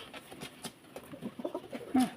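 Pigeons offered for sale coo in a soft, repeated series of low murmuring calls, close by and fairly faint, with no talk over them.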